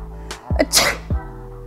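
A single sharp sneeze bursts out after a short inhale, loud and close, with nothing else around it.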